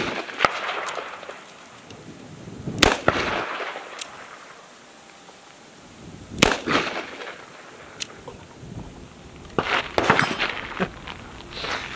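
Several loud, booming shots from a Taurus M605 Poly .357 Magnum revolver fired outdoors, spaced a few seconds apart, each with a long rolling echo and quieter handling sounds between.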